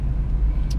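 A BMW M3 engine rumbles inside a tunnel, a brief, close, deep and steady drone with a boomy low end.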